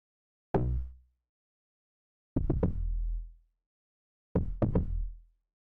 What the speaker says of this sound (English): I just added a clunk bass on top.